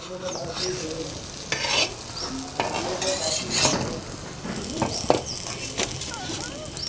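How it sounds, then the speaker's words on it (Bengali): Pea-stuffed vegetable parathas fry in a pan with a steady sizzle, broken by scraping and clinks of a utensil turning them; a voice speaks briefly over the cooking. "এইভাবে সবগুলোই আপনি ভেজে নিন।"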